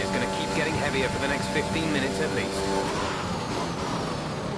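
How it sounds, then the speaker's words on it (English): Racing car engine in a Formula-style racing video game at the Italian Grand Prix, a sustained high whining drone under power, held steady throughout while a commentator talks over it. "You can hear the engine when I put the power down"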